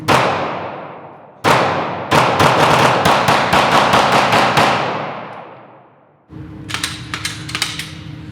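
AKS Kalashnikov rifle fired at a shooting range in Poland: two loud single cracks with echoing tails, then a rapid run of about a dozen close, sharp shots, and a final burst of activity after a pause.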